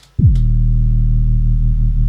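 A deep, steady synthesized sub bass tone sustains after a brief click, thick and continuous with no other sounds, in a train tune.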